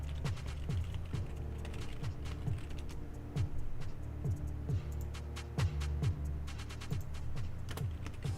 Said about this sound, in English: Do the typing.